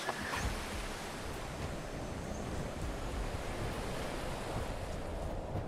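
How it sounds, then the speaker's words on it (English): Loud ocean waves in The Isle Evrima, a steady, close roar of surf with constant wind-like hiss and no pauses. "Let's get away from the ocean, that's a bit loud."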